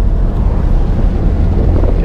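Heavy, steady wind turbulence roars and buffets the microphone inside a moving Ford Mustang V8 convertible with the top down, loud and continuous with no speech.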